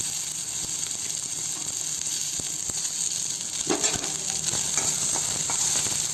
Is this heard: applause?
no